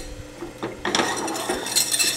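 Sourdough pretzel dough being mixed with flour in a bowl, giving a run of scraping, clinking utensil-against-bowl sounds that start soft and grow busier and steadier, close up with no voices.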